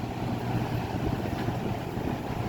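A vintage Country Aire C-720-5 box fan runs on its medium setting, a steady, even whoosh of moving air with a low motor hum and no variation across the short stretch.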